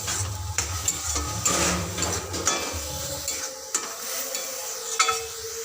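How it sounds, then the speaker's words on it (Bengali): Chopped green chillies stirred into a pointed gourd curry in a pan, a busy run of spoon scrapes and clatter against the metal over a gentle sizzle, steady and close for several seconds. "লঙ্কা কুচি দিয়ে আবারও ভালো করে মিশিয়ে নেব"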